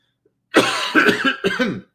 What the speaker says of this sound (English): Excuse me, I still got a cough.